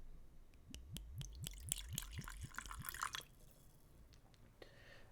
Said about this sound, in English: So let's put the store pick in the Knob Creek glass.